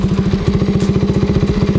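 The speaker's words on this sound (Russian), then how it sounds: "Для этого нам нужно завести мопед." A used moped engine runs close and loud in a fast, even thumping idle with a clattering edge, steady throughout with no talk.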